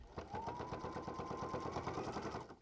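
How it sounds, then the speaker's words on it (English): A sewing machine stitches a quarter inch in around the edges of a fabric prairie pillow, a steady rapid mechanical chatter at close range running without pause, with no talking over it. "I'm gonna just take this to the machine and sew 1/4 inch all the way around the edges of the pillow"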